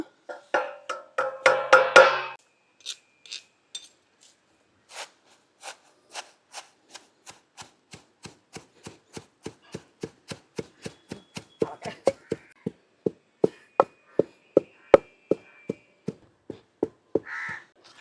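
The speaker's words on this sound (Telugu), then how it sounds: "ఈ రకంగా మునగాకు కరివేపాకు కూడా ఇలా కచ్చపచ్చ దంచేసుకున్నామండి" Moringa and curry leaves being pounded for spice powder in a mortar, a steady run of sharp, evenly spaced thuds that speeds up and grows louder, heard close and alone.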